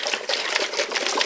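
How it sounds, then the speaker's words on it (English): A glass pasta sauce jar of tomato basil sauce, filled with water, is shaken hard, giving a continuous rapid sloshing and rattling that stays loud and close for the whole moment. "I just took my jar of pasta sauce and filled it with water. I'm going to shake it to get the rest of that"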